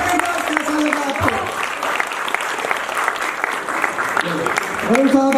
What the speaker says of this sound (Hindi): आपको ये किरदार कैसा लगा? आपकी तालियां बताएंगी।